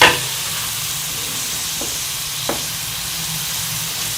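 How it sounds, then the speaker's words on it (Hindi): Round gourd (tinda) frying with masala in a hot pan, a constant loud sizzle and hiss with a couple of faint stirring scrapes and no voices. "अब हम इसमें टिनिया शामिल कर लेंगे और इसको भी मिक्स करके अच्छी तरह से भून लेंगे मसाले के साथ"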